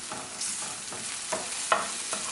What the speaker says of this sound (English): just do a quick stir fry with veggies that you have on hand